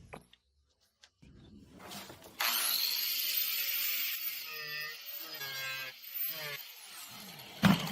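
Plastic bottle being cut with a cutting machine: brief scrapes and knocks, then a sustained buzzing, grinding cut with rising and falling whine, close and fairly loud, ending with a sharp snap.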